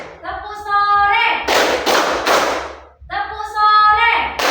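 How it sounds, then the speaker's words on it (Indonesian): A classroom group claps in a rhythmic routine, a few sharp bursts of hand claps between stretches of a teacher's chanting voice, close and lively. "Tepuk pagi, tepuk siang, tepuk sore,"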